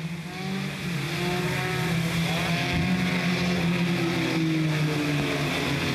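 Front wheel drive race car at Smoky Mountain Raceway, a steady loud engine drone holding a sustained note with shifting pitch as it runs past, continuous throughout with no talk.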